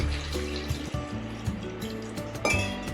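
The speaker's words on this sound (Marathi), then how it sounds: "त्याच्यामध्ये पाणी घालूया।" Water pouring into a pressure cooker holding washed potatoes, a close, uneven splash and trickle with metallic clinks and knocks against the pot, and no speech.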